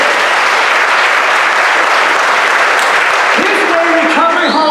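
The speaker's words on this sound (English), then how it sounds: "let's give him a round of applause." A large crowd at a community event applauds loudly and continuously, a thick wash of clapping with cheers and whoops rising near the end and a voice starting to speak over it.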